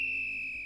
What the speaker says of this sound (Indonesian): meniup peluit agar mereka tahu, agar orang-orang di kapal tahu di mana lokasi Rose